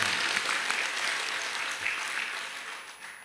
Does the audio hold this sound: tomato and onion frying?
no